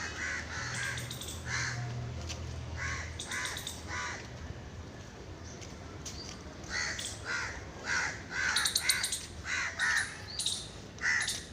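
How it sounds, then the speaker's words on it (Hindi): Crows cawing outdoors at a Shiva temple during a Sawan Monday visit, with repeated harsh caws arriving in bursts, some close and loud and others farther off, and no talk over them. "ये कौवे देखना कैसे कर रहे हैं।"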